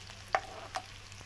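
Chopped onions, ginger and garlic frying in oil in a pan as they are stirred, a soft steady sizzle with a few brief scrapes of a spoon, quiet and without talk.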